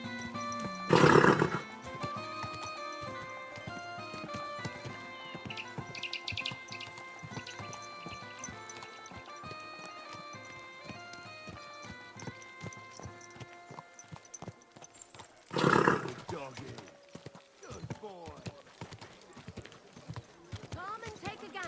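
A horse in Kingdom Come: Deliverance II gives two loud neighs, one at the start and one late on, while hooves clip-clop steadily between them with a voice talking quietly over the ride.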